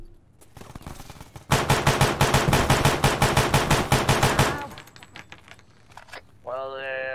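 Rapid automatic gunfire in the Arma 3 military shooter, set in an Afghan cave: a dense, loud burst of about three seconds of evenly spaced shots, with faint chatter before and a tone-like sound after.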